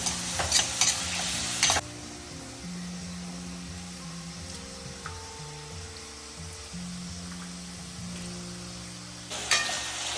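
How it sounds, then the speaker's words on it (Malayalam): Tomato, onion and slit green chili sizzling in hot coconut oil, a steady fry with spoon scrapes and stirring knocks, loudest at the start and end, no talking. "ഇനി നമുക്ക് തക്കാളി, സവാള, പച്ചമുളക് കീറിയത് ഇതും കൂടെ ചേർക്കാം"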